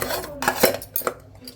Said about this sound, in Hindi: अभी चल रही है सफाई, और ये बर्तन मांजे